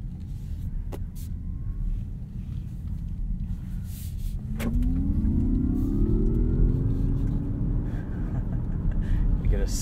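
Inside a 2022 Mazda MX-30 EV Premium Plus, the speakers play a simulated driving tone that rises in pitch as the car pulls away, set against road and cabin rumble.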